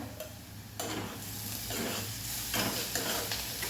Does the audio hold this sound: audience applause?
no